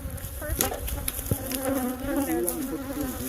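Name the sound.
killer bees buzzing during a bee removal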